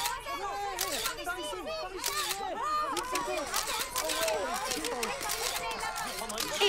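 Rapid camera shutter clicks at an animated Polly Pocket photo shoot, sharp repeated snaps scattered through the clip beneath busy overlapping chatter and voices.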